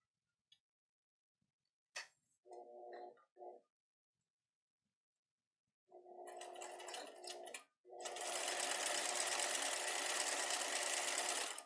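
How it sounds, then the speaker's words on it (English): A sewing machine stitching elastic onto a backpack pocket, running in short stop-start bursts and then a longer steady whirring stretch, close and alone. "So I'm going to sew down here and I'm going to sew down over here."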